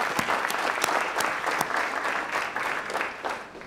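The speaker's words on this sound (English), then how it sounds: "Let's give RBC Royal Bank a big round of applause." Applause from a crowd at a college graduation commencement ceremony, a steady patter of many hands clapping with a few sharper nearby claps standing out, sustained throughout at moderate loudness.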